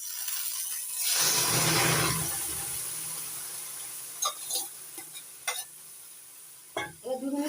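Jute greens tipped into a hot pan with fried red lentils give a swelling hiss of sizzling, followed by scattered scraping stirring strokes and clinks, close and fairly quiet.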